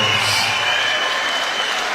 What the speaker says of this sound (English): can we please have a big round of applause for both of our boxers